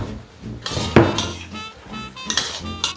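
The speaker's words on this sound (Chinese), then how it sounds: "翻炒一下" Fried frozen tofu is stir-fried in a wok with thickened Kung Pao sauce, giving sharp metallic clanks and scrapes of a spatula against the pan over a light sizzle, close and fairly loud.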